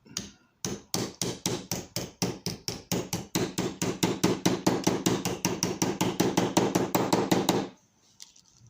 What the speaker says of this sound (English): take your ball peen hammer, flip it over to the back side, and tap it out